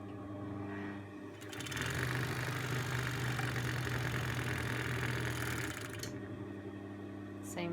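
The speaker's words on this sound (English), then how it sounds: "So you want to overlock this edge." An overlocker serger runs steadily along the edge of a fabric face mask, a fast, even mechanical whir that starts after a short pause, holds for about four seconds, then stops.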